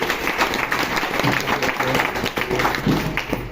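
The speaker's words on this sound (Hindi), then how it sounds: "एक बार जोरदार तालियां अवधेश सर के लिए" Loud, dense applause from a seated audience at a networking seminar greets Avdhesh sir, continuous clapping close by with some crowd murmur mixed in.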